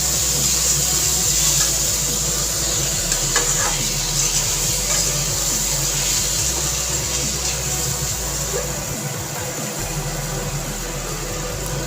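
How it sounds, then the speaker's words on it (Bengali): Washed lentils fry in a pan with spices and potatoes, giving a steady close sizzle under repeated scraping and stirring strokes, continuous and fairly loud with no voices. "ডালটাকেও একটু মশলা দিয়ে ভালো করে কষিয়ে নেব"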